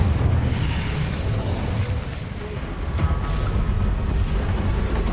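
An Incendio fire spell explosion in the video game Hogwarts Legacy, a loud sustained roaring burst with crackling, rumbling low end that fills the scene throughout.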